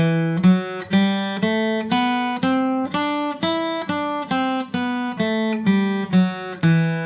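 Guitar plucking an E natural minor scale one note at a time, each note ringing briefly in a steady, even rhythm, clear and close with no voices.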